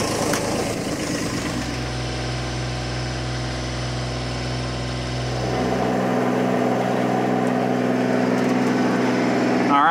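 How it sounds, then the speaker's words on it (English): A boat engine in the middle of a bay starts up and runs, a loud steady mechanical drone whose pitch and texture shift partway through, with no talking. "Okay, go ahead and turn the engine on."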